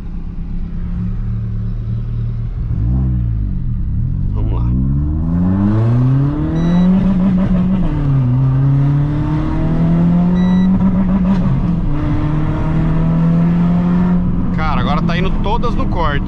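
A Renault Sandero RS in sport mode revving repeatedly up to its rev limiter, the engine note climbing and bouncing off the cutoff several times, loud and close, with people talking over it.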